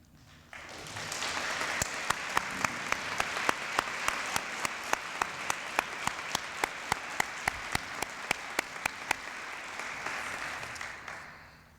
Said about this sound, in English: We'd like to recognize you and say thank you with applause.